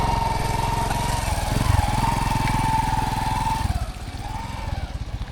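A motorcycle engine idles close by with a steady low throbbing putter, its pitch easing and wavering near the end, on a hiking trip in Palawan, Philippines.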